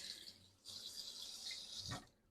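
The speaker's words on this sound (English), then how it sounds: "Give a little rinse on the hands." Hands being rinsed under a running kitchen tap while cooking garlic: a faint, steady hiss of flowing water that pauses briefly, resumes, and ends with a soft splash as the hands move under the stream.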